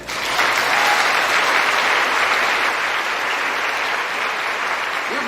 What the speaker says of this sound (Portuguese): Vamos aplaudir ele